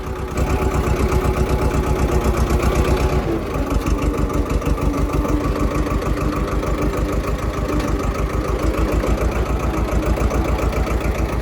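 Close, loud diesel tractor engine idling at about 600 to 700 rpm with a steady low chugging pulse, briefly dipping near the start before settling into an even idle.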